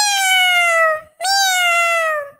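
A cartoon cat lets out two loud, close meows back to back, each a clear, drawn-out tonal call with a short gap between them and no talking.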